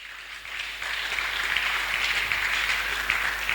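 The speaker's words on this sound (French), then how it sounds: "On acclame, on acclame." A church congregation applauds in a dense, steady wash of clapping that swells slightly after the first second and carries on to the end, with no voices over it.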